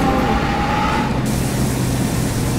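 A sudden sharp hiss of a bus air brake release bursts out over a steady engine rumble in a video game and keeps going, loud and close.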